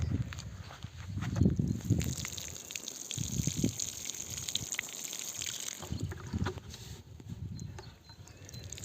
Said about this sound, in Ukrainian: Залишилось пополивати. Я взяла трошки теплої водички.